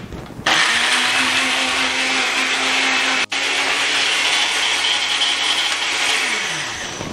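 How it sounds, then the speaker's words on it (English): A blender runs continuously, liquefying green rice ingredients with chicken stock. The motor whirs loudly and steadily with a brief cut about midway, then winds down at the end, with no talk. "I'm gonna go ahead and close it up and blend it."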